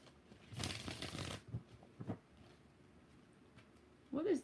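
Tarot cards being shuffled in short bursts of papery riffling, a louder burst early and another at the end, with quiet gaps between.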